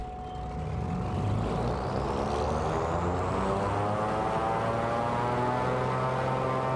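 Twin piston engines of a Cessna 414W running up in Microsoft Flight Simulator 2024, a steady loud propeller drone with a low rumble and a faint rising whine, building at the start then holding constant.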